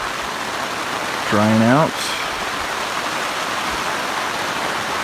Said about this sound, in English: You can hear the rain. It's going crazy out there.